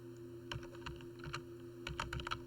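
Keystrokes on a computer keyboard during spreadsheet formula entry, quiet clicks in two short bursts with a pause between, close and alone over a steady background hum.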